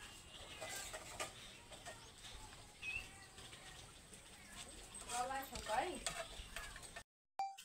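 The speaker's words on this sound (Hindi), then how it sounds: "यहाँ देख सकते हैं खाना बना रही है" Food with garlic is stirred and sizzles in a pan in a home kitchen in Delhi. The scraping and frying are faint and steady, with someone talking over them and a few louder clatters near the end.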